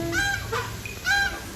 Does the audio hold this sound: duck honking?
yes